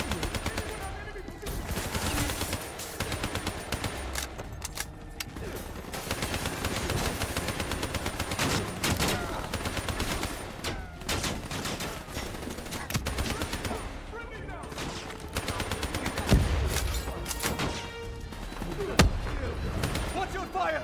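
Sustained automatic gunfire rattles almost nonstop in a Call of Duty: Black Ops III campaign battle in Cairo, dense bursts with explosions and shouted voices mixed in.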